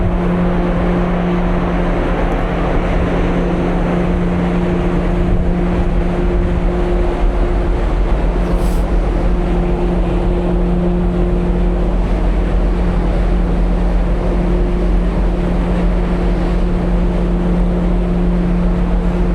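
Strong wind buffets the open deck of an overnight Sunflower ferry bound for Hokkaido, a steady loud roar with low engine hum and rushing water underneath, no voices.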